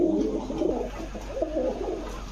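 Khaki pigeon cooing in low, rolling phrases that repeat steadily over a constant low hum, close and moderately loud with no talk.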